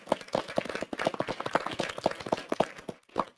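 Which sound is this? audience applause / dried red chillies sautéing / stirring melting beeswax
audience applause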